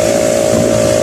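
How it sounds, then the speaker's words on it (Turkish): A moped engine runs steadily while being ridden, a loud, close, continuous drone with a constant pitch and no pauses throughout. "Motor sesi yüksek"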